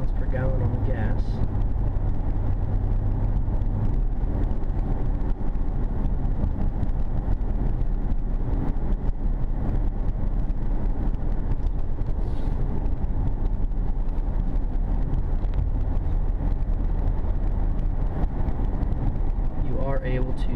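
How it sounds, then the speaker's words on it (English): Steady engine and road drone from a 2013 Honda Ridgeline pickup driving and accelerating, a continuous low rumble throughout with someone talking over it. "Very good pickup. Accelerates very quickly"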